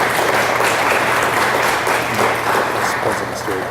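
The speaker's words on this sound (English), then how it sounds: "So give them a round of applause." A school board audience gives a round of applause for students being honored at a recognition ceremony, a dense, even wash of many hands clapping that holds steady for the whole stretch without letting up.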